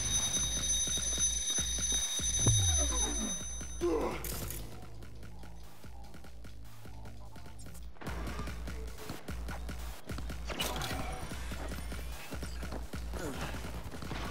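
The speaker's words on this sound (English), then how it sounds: "our timer went off" A timer alarm beeps rapidly and insistently for a few seconds, then stops. Busy game sounds from the open-world game Cyberpunk 2077 continue underneath and afterward.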